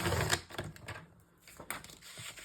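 A sheet of cardstock for handmade cards being cut into strips, with quick, close, faint clicks and rattling scrapes from the cutting, and no talking.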